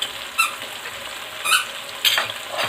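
Tomatoes cooking in a pan with red chilli, turmeric, ground coriander and garam masala for chicken karahi, giving a soft steady sizzle with a few brief louder scrapes or squeaks of stirring, no voices.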